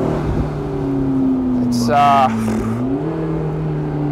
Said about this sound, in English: the turbos spool up and then have that blow off sound